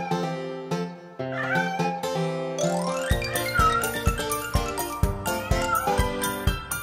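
Cartoon kittens meow in a children's nursery rhyme about kittens jumping on the bed, with repeated short mewing calls over a bright, bouncy musical backing that turns more rhythmic partway through.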